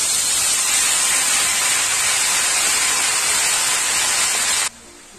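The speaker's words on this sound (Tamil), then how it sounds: "சுரக்காய் போட்டிருக்கேன், இது கொஞ்சம் லேசா வதங்கட்டும்" Chopped bottle gourd sautéing in a hot pan makes a loud, continuous hissing sizzle up close that cuts off abruptly near the end, with no voices.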